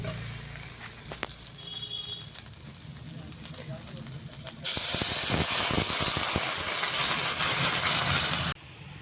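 Water is poured into a pan of fried potatoes and soybean chunks in a Bengali curry, setting off a sudden loud sizzle that roars steadily for about four seconds after quieter kitchen sounds.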